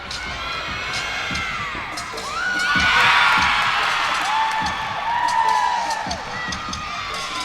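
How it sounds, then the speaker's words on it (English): Crowd cheering and whooping at a gymnastics meet, swelling loudest mid-way with shrill shouts and excited voices, then easing back while the noisy arena stays lively. "Really pumping up the crowd"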